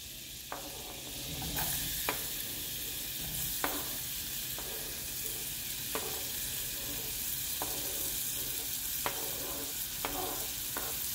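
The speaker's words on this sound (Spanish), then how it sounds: "Aquí vamos a sofreír lo que es el ajo, la cebolla." Garlic and onion sauté in a pan with a steady broadband sizzle, while a utensil scrapes and stirs in sharp, regular clicks roughly every second or so; no voices.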